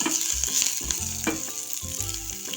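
Chopped garlic and whole curry leaves sauté in a pan, a loud steady sizzle broken by several clattering stirs and scrapes of a utensil, no talking.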